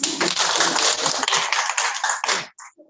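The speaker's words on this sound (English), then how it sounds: "Can we clap for this?" Audience applause at a community leaders' symposium: a short burst of dense clapping lasting about two and a half seconds, then cutting off abruptly into a few scattered claps.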